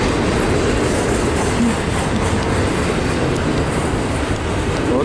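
An eastbound freight train with a mid-train DPU rolling into town, a loud, dense, continuous rumble and clatter of wheels and cars passing close by.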